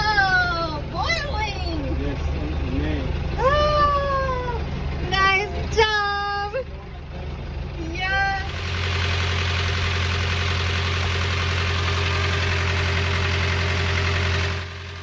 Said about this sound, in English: We're gonna start the engine, let it warm up a little bit.